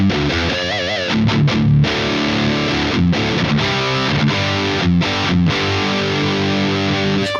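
An electric guitar is played with distortion through an amp fitted with a Legendary Tones Hot Mod V2, set to lower gain and tighter bass. It is loud and continuous, mixing sustained chords with quick riffs and short breaks.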